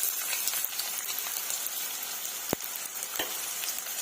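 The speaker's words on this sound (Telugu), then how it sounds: "Oil heat ఎక్కిందండి. ఇప్పుడు నేను ఆనియన్స్ వేసుకుంటున్నాను." Chopped onions drop into heated oil in a pan for an egg scramble, giving a steady, close sizzle with a couple of sharp stirring clicks and no talking.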